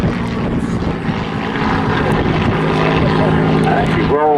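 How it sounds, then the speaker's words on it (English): A WWII fighter's propeller engine drones steadily and loudly at an airshow as it performs a victory roll over the Battle of Britain Memorial Flight display, a continuous roar without a break. "as the fighter now tallies his partner in the Hurricane, he'll no doubt complete another fabulous victory roll"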